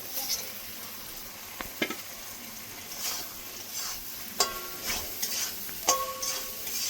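Potatoes go into a frying spice paste and get stirred, a soft steady sizzle broken by scattered scrapes and clinks of a spoon against the pan.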